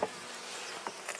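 Bees buzz faintly inside a horizontal hive, a low, thin hum with a few brief louder passes of individual bees close by.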